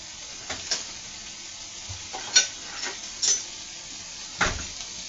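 Onions frying in a pan with butter give a faint, soft sizzle broken by a few brief stirring scrapes and clicks, with no voices.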